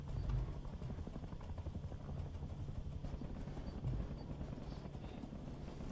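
A patrol helicopter in the video game Rust gives a steady low rotor thump with rapid rhythmic chop across the whole stretch, distant and fairly quiet, with no voices over it.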